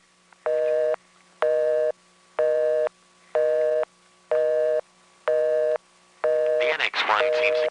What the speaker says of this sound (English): The NX1 seems to consider the busy signal the universal answer to everything.